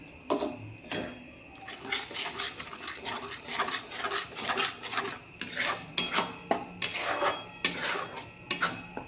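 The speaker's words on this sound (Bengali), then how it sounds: "এইভাবে এটাকে একটু কষিয়ে নেবো কাঁচা গন্ধ যাওয়া পড়ে" Chilli powder, Kashmiri and hot red chilli, being stirred and fried in a pan, heard as repeated scraping and rasping strokes with a soft sizzle beneath, steady and close with no talking.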